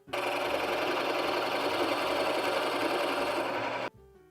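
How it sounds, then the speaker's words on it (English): Electric router cutting a cavity into a Telecaster-style guitar body, a loud continuous high-pitched whine and chatter for nearly four seconds before cutting off abruptly. "So I have routed out the cavity."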